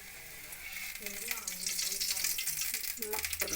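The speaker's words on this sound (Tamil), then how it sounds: "நல்லெண்ணெய் ஊற்றுங்க, நல்லாயிருக்கும்" Sesame oil meets a hot cooking pan with a rising sizzle and crackle that grows louder over a few seconds, with some light stirring scrapes mixed in.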